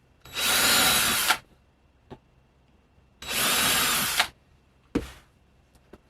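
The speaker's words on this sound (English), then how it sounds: "Drill a couple of holes." A power drill bores holes through a metal Jedi emblem backed by a wood block on a cosplay pouch, in two loud one-second bursts with small clicks between them.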